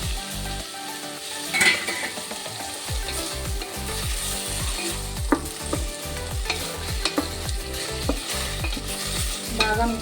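Tomatoes stirred in a pan for millet upma with cashew nuts, a continuous sizzle under a rhythmic series of scraping spatula strokes, close and steady.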